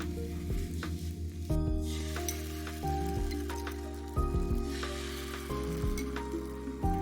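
Beaten egg hits an oiled pan for tamagoyaki with a steady, crackling sizzle that hisses close up. A low, even hum runs beneath it, and short clicks of utensils break in now and then.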